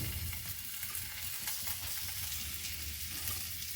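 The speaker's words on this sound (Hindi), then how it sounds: "1 मिनट के लिए मसालों को हम यहाँ पर हल्का सा भून लेंगे।" Spices with mashed boiled potatoes fry in a hot pan, giving a steady close sizzle and hiss with soft stirring scrapes and no talking.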